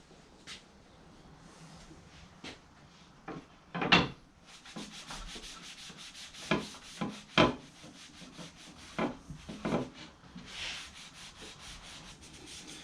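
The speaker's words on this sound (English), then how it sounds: "So what I'm doing now is just wiping the excess off, and you can feel your rag stick, and then all of a sudden it glides smooth." Rag rubbing excess finish off walnut and purpleheart wood, a soft scuffing that repeats in short uneven strokes, some strokes sharper and louder, with no voice.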